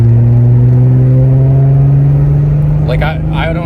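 A supercharged VR6 in a Mk3 Jetta holds a steady, strong mid-pitched drone close by, surging without falling off, while people speak briefly near the end.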